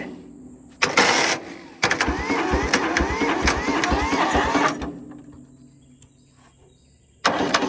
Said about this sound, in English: We're gonna try to crank it.